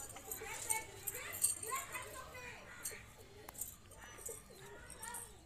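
Local Giribaj tumbler pigeons coo in soft, repeated low calls at close range, with brief chirps and faint jangling mixed in, while a person talks over the birds.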